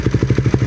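A Raider 150 FI motorcycle fitted with a Vhenworkz power pipe exhaust idles nearby with a loud, steady, rapid popping pulse of even exhaust beats.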